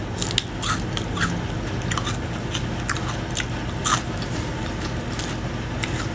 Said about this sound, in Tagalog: mas malutong po yung cone niya